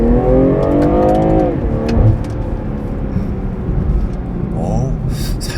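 BMW M340i engine revving under acceleration, a loud, steady drone with rising harmonics through the first second and a half, then continuing rough and strong with brief gear-change dips.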